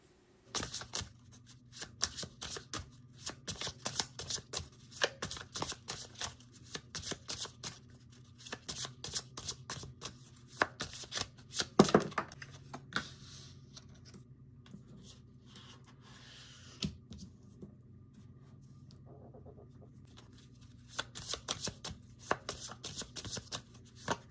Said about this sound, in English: I am going to shuffle the cards